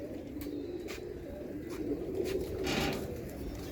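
Soft, low pigeon cooing rolls along steadily with faint rustling and scattered ticks in the background; no voices.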